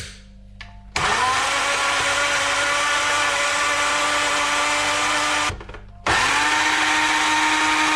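A kitchen blender chopping spring onion for hot pot, whirring loudly in a sustained high-pitched drone, stopping briefly midway and then spinning back up again for a second steady run.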